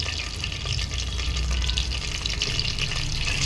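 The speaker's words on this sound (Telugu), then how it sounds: "మసాలా దినుసులు ఏవైతున్నాయో వాటిని మనం కుక్కర్లో వేసేయాలి వేసి వీటిని మంచిగా ఫ్రై చేయాలి అవి చిట్టపట్ట అనే వరకు ఫ్రై చేయాలి" Whole spices fry in hot oil in a pressure cooker, giving a continuous close sizzle and crackle with a low background hum and no talking.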